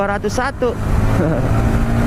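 Motorcycle engine droning steadily on an Indonesian road while overtaking a BMW car, with someone talking over the riding noise near the start.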